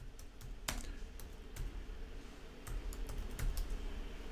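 A sudo command is typed on a computer keyboard, giving scattered close, quiet keystrokes with irregular spacing and a few sharper taps, with no talk.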